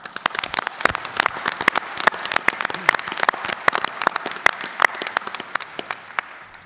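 An audience at the inaugural Chilliwack council meeting applauds, a close, loud spread of distinct hand claps with individual sharp slaps standing out.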